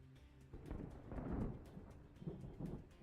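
Rain falls in the city-building game Captain of Industry, a steady low rumbling wash with soft thunder-like swells, moderately quiet and with no voices.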